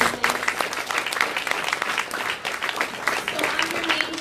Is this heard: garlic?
no